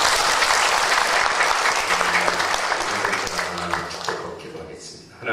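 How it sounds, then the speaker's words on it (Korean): A church congregation claps together in a dense, sustained round of applause that fades toward the end, with some voices mixed in. "박수 한번 하겠습니다"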